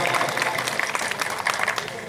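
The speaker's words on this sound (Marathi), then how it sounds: "दोन टाळ्या झाल्या पाहिजे" An audience at a live stage event in Delegavhan with a child's dance performance claps in quick, uneven bursts while a voice speaks over the applause.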